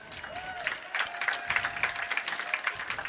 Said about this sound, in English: Big cheer for all the seniors of the class of 2022